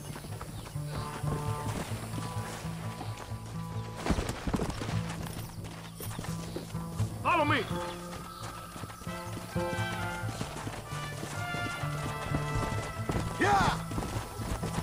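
Horses gallop in Red Dead Redemption with rapid, continuous hoofbeats and occasional neighs and whinnies over game music, while a voice shouts briefly.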